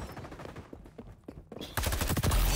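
Rapid bursts of automatic gunfire rattle through a video game firefight, dense and close, growing louder and heavier in the final second.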